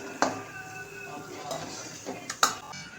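Roasted khoa for gajar halwa scooped from a pan onto a plate, a few sharp spoon clinks and scrapes against metal over a soft background hiss.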